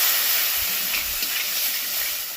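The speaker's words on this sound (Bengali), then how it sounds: "এইবার এটাকে ভালো করে কষিয়ে নেব" Soybean chunks with cumin, coriander, curry leaves, fennel and small cardamom sizzle in hot oil while being sautéed, a steady, loud hiss filling the whole moment without pause.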